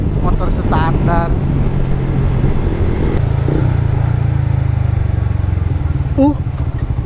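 A standard motorcycle engine drones continuously while riding at speed on a narrow road, a steady low rumble with wind noise, while a rider talks over it and a horn-like tone briefly sounds near the end.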